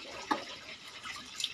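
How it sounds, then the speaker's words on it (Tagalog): Water running from a household faucet into a sink, heard as a faint, brief trickling wash with a couple of small splashy taps. "So may gripo din ako."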